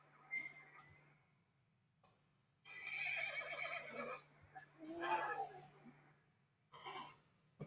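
A Dutch Warmblood horse, a male, gives two faint whinnies separated by a short pause. A soft click comes first and a brief snort-like burst follows, with low background hum throughout.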